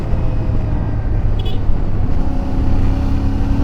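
CFMoto 450 MT motorcycle engine pulling hard in sixth gear during an overtake, a steady loud drone with rising intensity under heavy wind and road noise, no talk.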